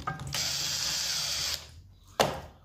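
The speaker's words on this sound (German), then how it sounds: "Ich mache zuerst mal den Schutz ab. Also einfach diese beiden Schrauben hier lösen." A Makita DUR365U cordless trimmer has its guard screws loosened. A power-driver whirr runs steadily for over a second, stops, and a short sharp click follows close by.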